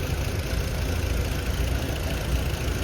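Volkswagen engine idling rough with a misfire, a loud, steady close-up rumble with an uneven knocking pulse running through it.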